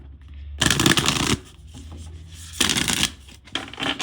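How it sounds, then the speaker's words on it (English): Guidance cards shuffled loudly up close, with two long riffling bursts and a shorter third one separated by quieter gaps of handling, and no talking. "I'm going to pull some guidance cards on this"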